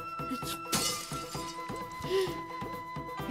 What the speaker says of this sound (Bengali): মনে হচ্ছে এবারে সব ভাঙচুর করবে